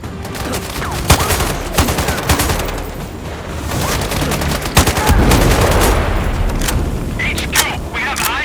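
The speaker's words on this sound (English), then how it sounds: "Continuing mortar fire." Continuous heavy mortar and gunfire barrage in the video game Sniper Ghost Warrior Contracts 2 on PlayStation, with loud booming impacts and dense crackling shots, a radio-style voice talking over the din.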